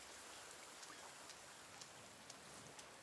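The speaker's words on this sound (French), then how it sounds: "Ah, il pleut ouais." Steady rainfall in The Forest survival video game, a soft continuous hiss with occasional faint droplet ticks, no voices.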